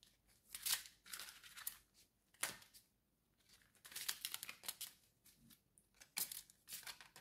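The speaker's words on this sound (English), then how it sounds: "I'm going to shuffle the deck" A deck of tarot cards is shuffled close up, with soft riffling bursts and papery slides coming in irregular quiet flurries.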